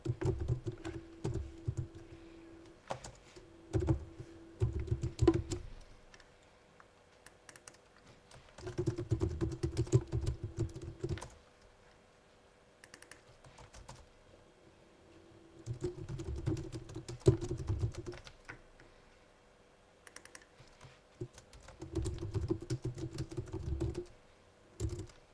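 Keystrokes on a computer keyboard entering data into library management software, coming in several bursts of rapid clicking separated by pauses, close and moderately loud with no talk.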